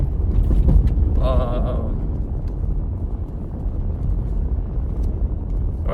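A car drives along Utah Route 128 near Moab, with a steady low road rumble and engine drone heard from inside the car and a brief voice near the start.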